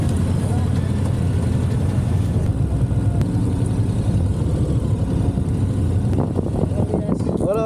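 A car drives along a road in Spain, its engine and tyre noise forming a steady low rumble throughout, with brief voices toward the end.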